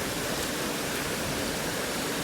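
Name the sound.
fast-flowing rocky river water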